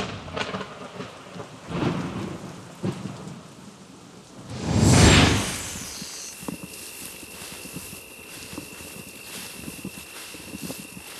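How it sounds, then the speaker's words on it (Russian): Thunder rolls over a boiling volcanic sulfur and acid lake in Indonesia during a rainstorm. Steady rain patters throughout, and one loud, swelling rumble peaks midway before fading back into the rain. "гром гремит"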